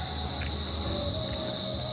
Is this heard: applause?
no